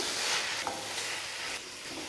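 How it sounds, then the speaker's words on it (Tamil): Steady sizzling and hissing of vegetables sautéing in a hot pan, with a brief scrape or stir partway through. "இதெல்லாம் சேர்த்து நல்லா வதக்கிடுங்க"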